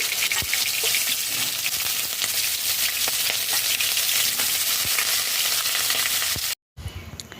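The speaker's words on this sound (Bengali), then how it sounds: "কড়াইতে তেল গরম হয়ে গেছে লম্বা শেপে কেটে রাখা কলা আলু তেলেতে দিয়ে দেবো" Long slices of green plantain and potato frying in hot mustard oil in a wok make a loud, close, crackling sizzle with sharp pops. It cuts out for a moment near the end, then comes back more quietly.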